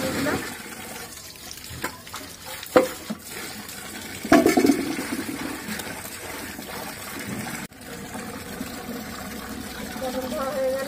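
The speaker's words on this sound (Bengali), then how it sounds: "পটল ধোয়া হয়ে গেল, পটলটা ধুয়ে তুলে দিলাম।" Pointed gourd being washed in water, with continuous splashing and running water, occasional knocks and sloshes, and a louder surge partway through.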